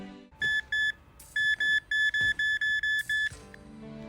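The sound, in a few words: detection augment beep in video game Dragon's Dogma 2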